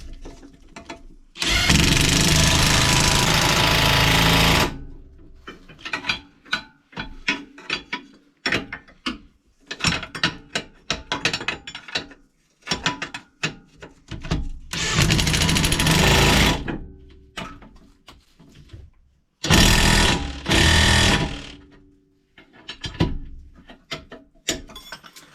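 Mechanical ratcheting on the brake bolts of a 2016 Subaru Forester during a brake job, coming in loud, dense bursts of rapid clicking separated by quieter stretches of tool handling and clanks, with no talk.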